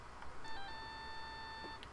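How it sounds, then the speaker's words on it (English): A cellphone ringtone from the video game Phoenix Wright: Justice For All, a short bright electronic tone chiming steadily for about a second and a half, clear and alone with soft background hiss. "And I bet it was this ringtone that caused it."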